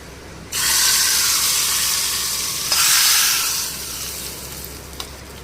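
A tempering of cumin, mustard seeds, garlic and curry leaves hits a pot of dal with a sudden loud hiss, then keeps sizzling strongly before fading to a softer crackle.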